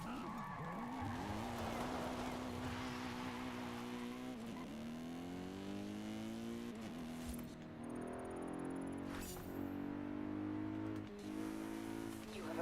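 A BMW car driving in Forza Horizon 5 on PS5, with a steady engine drone that rises and falls through gear changes and brief tire squeals. A voice talks over it.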